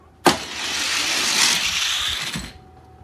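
Die-cast Ferrari F40 and F430 Challenge cars race down a track, a sharp launch clack followed by a sustained rushing whir of wheels that rises slightly, then a thud at the finish and quick fade.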